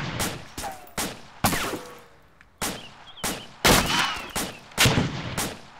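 Gunfire in the military shooter ArmA 2 at night: a series of sharp, loud shots, some in quick pairs, spaced irregularly with echoing tails and no talk over them.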